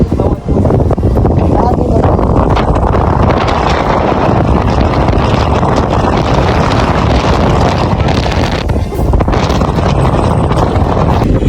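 Strong wind batters the microphone at the top of Bote Lighthouse, a loud, continuous buffeting roar with a brief lull near the start. Voices are faintly mixed in.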